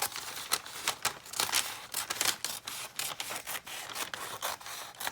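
Paper being cut with scissors while choosing papers for a junk journal, a close, dry series of crisp snips and rustles with brief gaps and no talk.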